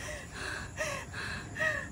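After a steep hill climb near a river spot in Dasmariñas, someone pants heavily in quick rhythmic gasps, each breath a little voiced and close by.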